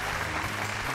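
Brief burst of audience applause welcoming judges onto a Rajasthani classical dance competition show, a dense wash of clapping heard only for a moment.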